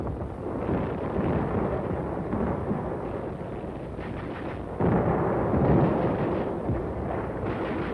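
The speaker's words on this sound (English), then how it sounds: "the bombardment was lifted at Walmey, but continued at Inchon" Artillery bombardment at Inchon during the Korean War beach landing, a continuous heavy rumble of distant gunfire and blasts rolling on without pause, swelling louder in the second half.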